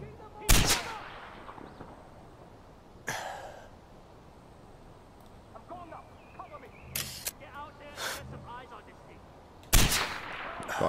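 Gunfire in the first-person shooter game Far Cry 4, with sharp loud bursts and single shots spread across the span, separated by quieter game noise and occasional voices.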